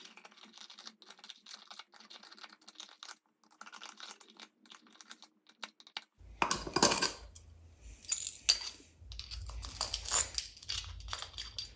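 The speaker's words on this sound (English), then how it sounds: "Now I'll just clean it up by running the flathead around the sides." A flathead screwdriver scraping jagged knockout debris from a Leviton porcelain lampholder, light clicking scratches at first, then louder gritty scraping and ticking bursts, close up with no talking.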